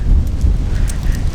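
Wind buffets the microphone, making a loud, steady low rumble with no voices.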